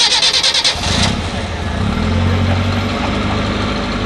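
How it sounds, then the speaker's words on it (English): Alfa Romeo at an Italian car day cranks and fires up, a brief starter whir followed by a throaty engine that settles into a steady, fairly loud idle nearby, with no talking. "Alfa Romeo giving us a nice start."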